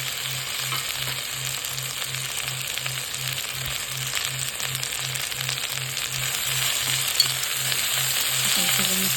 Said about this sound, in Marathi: त्याच्यामध्ये आता कटिंग केलेली भेंडी टाकून घेऊया